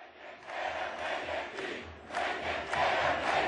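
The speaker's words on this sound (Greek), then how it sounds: "απευθύνθηκε στο πλήθος των πολιτών που συγκεντρώθηκε στο κέντρο της πρωτεύουσας Ερεβάν" A large crowd gathered in central Yerevan, Armenia, for a pre-election rally roars and chants in continuous surging waves, loud and close, swelling louder toward the end.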